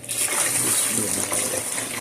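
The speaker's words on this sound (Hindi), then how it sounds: "अब हम जितनी लस्सी थी उतना इसमें पानी भी डालेंगे।" Water gushes steadily into lassi for a grandmother's kadhi pakora, a continuous, fairly loud pour lasting about two seconds with no break.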